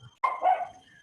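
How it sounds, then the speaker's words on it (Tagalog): A dog gives a single short bark close by, sharp at the start and trailing off, with quiet background afterward. "Okay, maingay yung aso."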